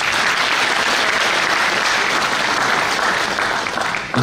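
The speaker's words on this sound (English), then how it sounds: "So a round of applause for him again." Sustained applause from a university audience at a public lecture, a dense, steady wash of many hands clapping throughout, loud and even, tapering slightly at the end.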